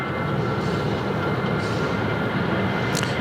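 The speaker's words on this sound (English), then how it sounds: "Here we go, the first departure of the morning here on runway 16 right." An airliner departs on runway 16 right at Sydney Airport. Its engines make a steady, loud, broad roar through the whole stretch, with no voices.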